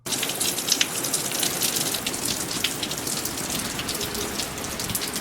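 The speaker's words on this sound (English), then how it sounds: "It's been raining a bunch." Rain falls steadily on a parked truck, heard from inside the cab as a dense, constant patter of drops with occasional louder splats, running the whole time without any voices.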